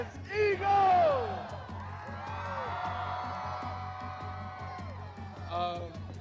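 A large crowd of Eagles fans cheers, whoops and chants at a football championship celebration, sustained roaring mixed with shouted voices, loud and close throughout.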